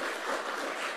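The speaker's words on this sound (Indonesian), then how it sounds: "Ayo tepuk tangan yang hebat ngono loh" Dense, steady applause from a crowd at a political gathering, broad and even throughout without distinct claps standing out.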